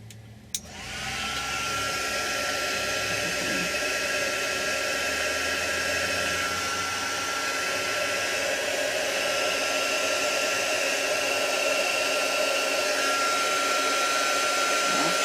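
Heat tool blowing hot air onto paint on a handmade Christmas card: a steady, loud, close whooshing hum that starts abruptly and runs unbroken throughout.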